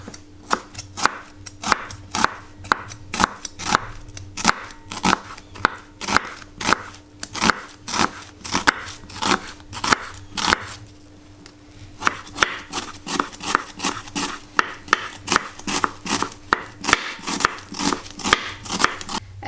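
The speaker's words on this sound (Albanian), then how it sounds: "Qept i presim fije" Knife on a cutting board steadily chops onions into strips, a fast run of sharp, evenly spaced taps that goes on with barely a break, close and clear with no talking.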